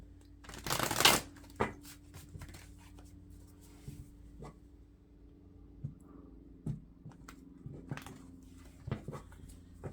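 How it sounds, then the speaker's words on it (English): Cards are shuffled in a quick riffle near the start, followed by scattered soft taps and flicks of handling cards. "One more shuffle."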